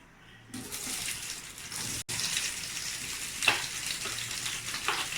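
Sliced onions going into a hot pan for Malaysian tomato rice, breaking into a loud, broad sizzle that holds steady with a brief dropout and a few stirring clatters, no voices.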